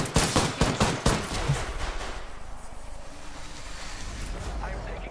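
Automatic gunfire in the video game Apex Legends: a quick, loud burst of rapid shots in the first second, then a fading rumbling tail and quieter ambience.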